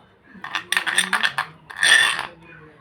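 Wheat flour face pack being stirred with milk in a small bowl: a run of quick clinking scrapes of a spoon against the bowl, then a longer scraping stir, close and fairly loud with no talk.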